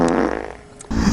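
A fart of about one second, loud and close, with a buzzing burst, a short dip and a final blast, heard alone with no talk.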